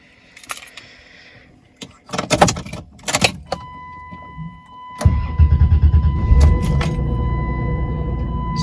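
A Mopar car that has sat unused for a while is started: keys rattle and clicks precede a cranking starter, then the engine catches and settles into a loud, steady close idle with a faint electronic chime.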